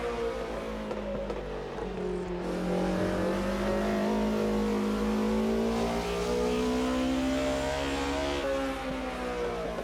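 A BMW race car in the Automobilista 2 historic racing sim drops to third gear and revs hard through a corner, its engine note climbing and sustained loud and close with no talk.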